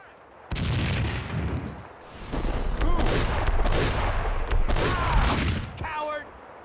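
Loud, dense gunfire and explosive bursts from a grenade fight in the video game Max Payne 2 fill most of the stretch, close and sustained with a brief dip, as voices shout over the battle.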